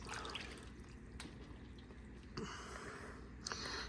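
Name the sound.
liquid dripping while dipping and squeezing to get juice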